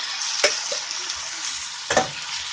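Vegetables sizzle and crackle in a hot pan right after the persimmon marinating liquid goes in, a steady close frying hiss broken by two brief stirring scrapes.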